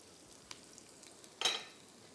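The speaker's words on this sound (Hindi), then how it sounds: "सबसे पहले आ जाएगा इसमें लहसुन चॉप किया हुआ" Chopped garlic frying in a little olive pomace oil gives a faint, soft sizzle with a few light clicks and one brief louder stirring scrape near the middle.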